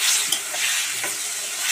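Potatoes sautéing with spices in a pan give a steady close sizzle and hiss, with a few stirring scrapes and no talking.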